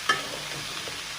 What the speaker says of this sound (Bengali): দিয়ে নাড়াচাড়া করে ভেজে নেব